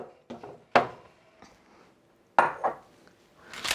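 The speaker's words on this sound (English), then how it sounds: "now let's cut up the ham" A knife slicing ham on a kitchen cutting board gives a few sharp knocks and clatters in irregular bursts separated by quiet gaps, close by with no talk.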